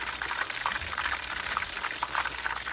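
Corn tortilla tacos sizzle and crackle in hot oil in a pan, a steady, dense frying hiss with scattered pops running throughout at close range.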